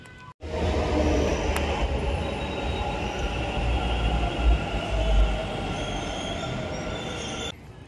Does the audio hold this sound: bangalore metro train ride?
yes